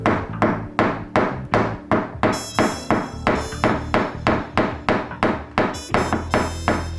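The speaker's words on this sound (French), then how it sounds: "De petits coups portés avec le manche d'un marteau suffisent à retendre la tôle" A hammer handle taps a teflon punch against a dented car body panel in paintless dent repair, giving a steady series of about twenty crisp, close knocks at an even rhythm, with no talking.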